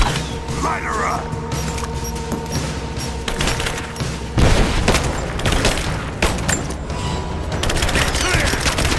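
Gunfire in Rise of the Tomb Raider: a game firefight with sharp shots and bursts, one heavy blast near the middle, mixed with creaking mechanical clatter and distant shouting voices.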